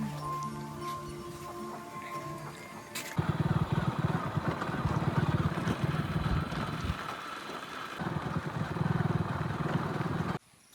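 A father's motorbike engine runs steadily on the way to a village field, a loud continuous drone that rises as the bike pulls away and cuts off abruptly at the end, with no clear talk.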